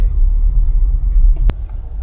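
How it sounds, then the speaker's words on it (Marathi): Heavy traffic on the NH66 highway at Mangaon makes a steady, low, dense rumble throughout, with one brief sharp click near the end. "माणगावात, एवढं ट्रॅफिक आहे"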